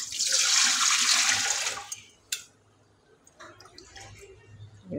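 Water pours and splashes loudly into a pot of rice being rinsed clean, then stops abruptly, leaving faint clinks, drips and light handling noises nearby.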